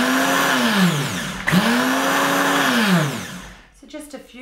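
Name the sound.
Vitamix 9200 blender pulsing shredded coconut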